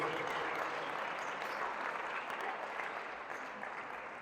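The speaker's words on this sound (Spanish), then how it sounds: "¿Cuántos le dan un fuerte aplauso al Rey de Reyes," A church congregation gives a long round of applause, a continuous, even wash of many hands that fades slightly toward the end, with no speech over it.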